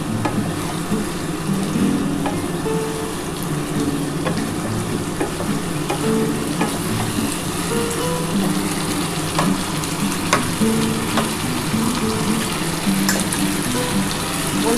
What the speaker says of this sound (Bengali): মশলাটা লাউ আর আলুটাকে কষাতে হবে